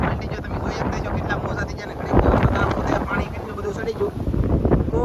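Strong wind gusts and rough sea water roar around a fishing boat out on the open sea, a loud, steady blustery rush that swells stronger partway through.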